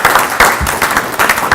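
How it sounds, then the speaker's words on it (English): Conference audience at the University of Bradford applauding together, a dense, loud, continuous wash of many hands clapping close by, with no voices over it. "I think you should applaud yourselves"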